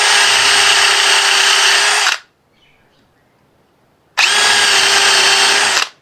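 A power drill drives 1 5/8 inch screws into wood on a sunroom opening, two loud, close, steady whirring bursts of about two seconds each, separated by a quiet pause.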